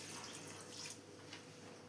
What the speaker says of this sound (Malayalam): ഇതിലേക്ക് 1 ഗ്ലാസ് വെള്ളം കൂടെ ഒഴിച്ചു കൊടുക്കാം.